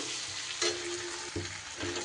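Tomatoes fry in a pan with chilli powder and turmeric for a Bengali fish curry, with a continuous close sizzle and short bursts of stirring and spatula scrapes.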